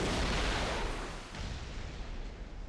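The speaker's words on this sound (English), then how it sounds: "These are aircraft rockets." Aircraft rockets launching in the War Thunder game make a loud, broad whooshing blast at the start that gradually trails off into a rumbling roar, with no talk over it.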